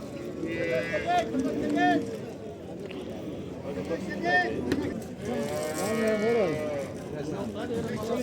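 At a livestock bazaar in Barda, Azerbaijan, a cow moos several times in close, strained calls, while people talk throughout and other animals can be heard in the busy market.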